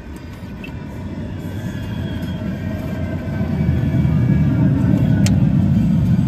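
A tram rumbles at a station, a loud steady low rolling drone that swells and grows heavier over several seconds, with faint metallic squeals above.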